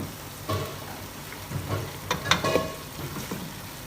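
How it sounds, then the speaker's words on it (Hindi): Chicken pieces for nihari frying over a medium-high flame, giving a low, crackling sizzle with scattered pops and a few stirring scrapes, fairly close and on its own. "जी तो यहाँ अच्छी तरह से भुनाई कर रहे हैं।"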